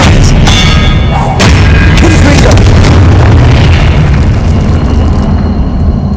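A spell cast in a Harry Potter video game, a loud booming blast with sharp cracking onsets, followed by a sustained rumbling roar that fades gradually over several seconds.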